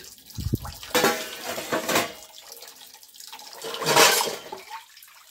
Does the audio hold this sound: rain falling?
no